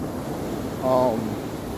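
Ocean surf washing onto a sandy beach, a steady, fairly loud wash of broadband noise with a slight swell near the middle.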